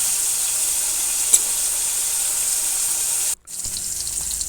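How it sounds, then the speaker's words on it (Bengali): Eggplant frying slowly in oil over a low flame, a steady even sizzle running throughout, broken by a short drop to near silence before it resumes. "এবার আমি স্লো আঁচে আস্তে আস্তে 15 মিনিট ধরে আমি এই বেগুনটা ভেজে নেব।"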